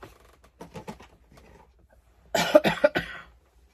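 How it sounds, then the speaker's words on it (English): A few harsh coughs burst out close and loud in a quick cluster near the end, after softer breathy sounds and faint rustling earlier. "I thought the coughing was gone, but guess not."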